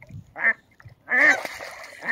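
A goose or duck honks repeatedly while a swimming dog chases it on the water, loud close raspy calls in short bursts with splashing between them.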